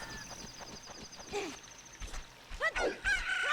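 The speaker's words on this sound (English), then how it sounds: "Alright, we got the chicken from an egg." A cartoonish chicken cluck and crow from a chicken hatching out of an egg in Zelda: Ocarina of Time, a short run of squawky bird calls that rises toward the end over faint game background sound.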